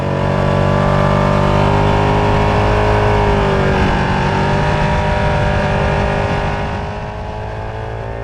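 A race car engine roars loud and close as it accelerates hard along a track, a steady high-revving drone that holds for several seconds before easing slightly near the end.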